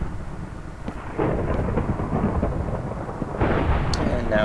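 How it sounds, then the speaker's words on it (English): Rain and thunder in the Minecraft video game, a steady hiss of rainfall with low rolling rumbles that swell twice, moderately loud and continuous. "And now it's raining."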